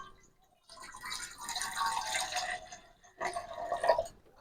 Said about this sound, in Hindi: सबसे पहले थोड़ा सा पानी डालेंगे।